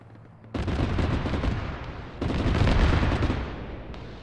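Heavy BMP cannon fire in the Arma military video game, a dense run of loud rapid booms that eases off briefly and then returns even stronger, with no talking.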